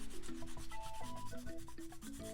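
Sandpaper rubs against the trimmed edge of a Wii circuit board in quick, steady back-and-forth strokes, a close, gritty scraping with no talking.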